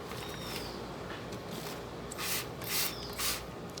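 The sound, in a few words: spraying insecticide on sweet potato cuttings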